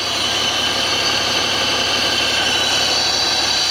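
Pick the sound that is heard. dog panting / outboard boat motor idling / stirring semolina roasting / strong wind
outboard boat motor idling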